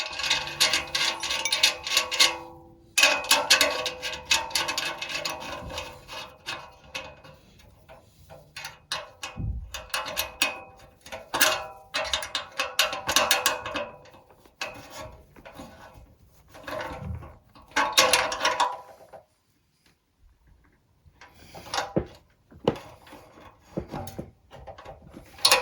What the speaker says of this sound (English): Then I use this bolt just to set it in